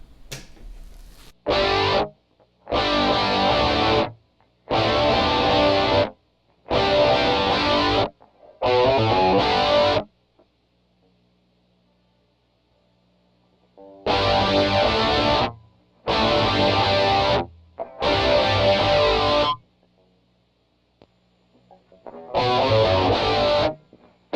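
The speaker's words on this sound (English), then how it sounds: "On this G.O.A.T generator pedal, the switch kind of affects the gain more than anything. So I'll show you in low gain." An electric guitar played through a G.O.A.T. Generator pedal set to low gain, mildly distorted and effected, sounding in loud strummed chords and bursts separated by silences, with a faint hum between phrases.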